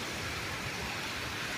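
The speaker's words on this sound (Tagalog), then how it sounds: "Ang ulan." Dense, even wash of rainfall in Saudi Arabia, steady and fairly close, with no voices.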